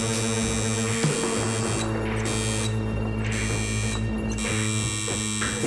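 Tattoo machine buzzing at close range with a steady electric hum, its pitch briefly shifting and cutting in and out in short bursts as the needle works a line.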